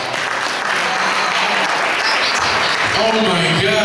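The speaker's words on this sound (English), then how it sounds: "would you give her a Grammy round of applause?" A crowd applauds steadily and loudly throughout. Near the end a voice calls out over the clapping.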